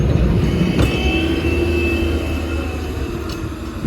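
A tractor clearing snow at night during heavy snowfall in Montreal rumbles steadily with a low droning engine and faint high whine, continuous and fairly close, with no voices.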